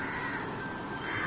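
A crow cawing outdoors in the dark before dawn, a harsh call carried over steady background noise on an early morning street walk.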